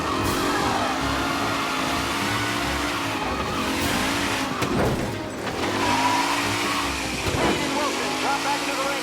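Race car engines revving during a race in the Mafia game in Lost Heaven, cars roaring and sweeping past with rising and falling pitch and tires squealing, under a commentator's voice.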